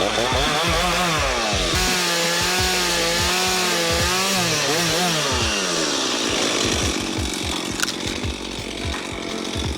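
A chainsaw roars steadily up close, its engine pitch dipping and climbing as it bites through wood, with rattling chain noise throughout.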